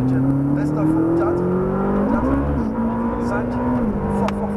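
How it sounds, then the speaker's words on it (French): A Ferrari 458 on a race circuit pulls at full throttle, its engine note held loud and steady with a brief dip and rise around a gear change, while a voice coaches over it. "réaccélère encore et à fond, Etienne"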